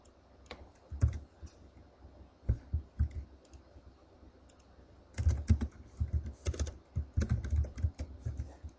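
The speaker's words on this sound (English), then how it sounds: "why am I typing it over and over again every time" Typing on a computer keyboard, close and fairly quiet: scattered clicks early on, then a dense run of rapid keystrokes in the second half, with no speech.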